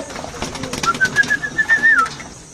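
Two pigeons coo softly with a thin whistling note drawn out over a couple of seconds, plus light rustling and movement close by.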